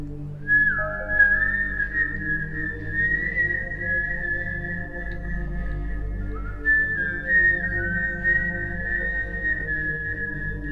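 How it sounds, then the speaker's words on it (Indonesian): A drawn-out, eerie whistled tone holds a single high pitch and then dips and climbs in slow glides, sustained and clear over a low droning background, setting a ghostly mood in a horror tale set at a grave. "Jelas sekali suara siulan itu berasal dari dalam kubur."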